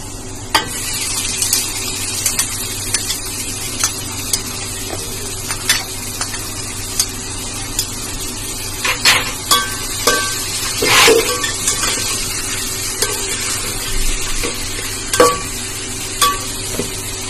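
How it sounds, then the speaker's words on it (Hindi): Onions fry in a pan for a kala chana dish, giving a continuous sizzle broken by scattered scrapes and clinks of stirring, with a few louder clatters midway and no talking. "अब उसमें प्याज डालेंगे"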